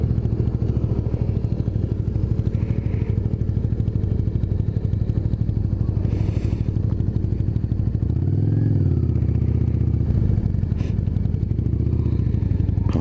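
A motorcycle chugs steadily with a rapid, rhythmic engine pulse as it climbs uphill in Antalya city center toward Masa Dag. The engine stays close and loud, with a deeper rev swelling midway.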